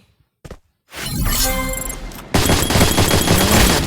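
Gunfire in the Free Fire video game comes in a dense burst of rapid shots after a brief silence, then gives way to a louder continuous rattle of automatic fire to the end.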